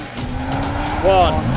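An Audi RS4 engine drones steadily on a track, rising to a brief loud squeal or rev near the end.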